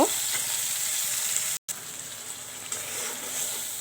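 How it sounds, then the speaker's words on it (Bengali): Mixed spice masala fries in a pan for bata fish, giving a close, steady watery sizzle with faint stirring, interrupted by one momentary dropout of silence midway. "এখানে মশলা মিক্সড করে রেখেছি সেইগুলো দিয়ে দিচ্ছি মশলাটা একটু কষিয়ে নেব"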